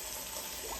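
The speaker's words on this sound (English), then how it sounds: "I'm going to now put fresh water" Tap water pours steadily and quietly into a big cooking pan, a continuous soft hiss of filling with no talk.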